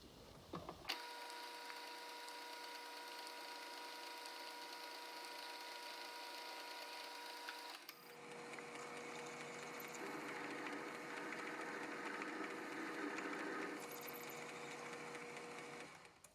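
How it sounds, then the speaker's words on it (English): A metal lathe bores a hole in a 5/8 bolt, running with a steady tonal machine whine that shifts at about eight seconds into a rougher, noisier cutting sound. It is fairly quiet and continues alone. "I've put the 5/8 bolt into the lathe, and I'm going to bore a hole in it"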